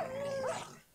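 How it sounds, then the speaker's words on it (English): A short dog howl or yelp from Minecraft, a single rising-then-falling canine cry that fades quickly, with no talking. "All I hear over my head is owls and dogs dying."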